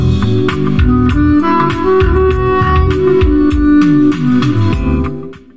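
Music playing through a Benz CLA 250 car audio system upgraded with Focal ASE165 speakers and an Alpine subwoofer: steady, loud playback with punchy bass hits and clear highs, with no voices over it.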